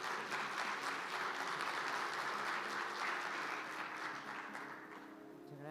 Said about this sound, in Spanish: Y la recibimos, por favor, con un fuerte aplauso.